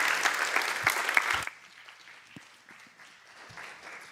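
An audience claps for speaker Tom LeNoble at a spiritual talk, loud and dense for about a second and a half before cutting off sharply into a quiet room with a few scattered thumps.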